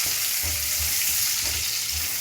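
Cashews, almonds and a piece of cinnamon fry in oil in a pan, producing a loud, continuous close-up sizzle with faint stirring bumps underneath and no voices.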